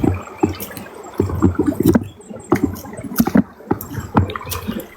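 Several dogs wade through water, making irregular bursts of splashing and sloshing close by, loud in clusters separated by brief quieter gaps.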